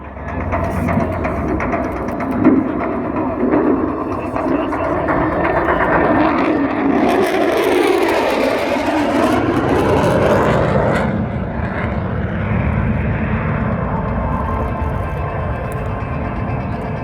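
An RAAF F-35A Lightning II jet makes a high-speed low pass at an airshow, wings level at about 200 feet and 540 knots, a loud roar that swells as it approaches, peaks and then fades into a long rumble.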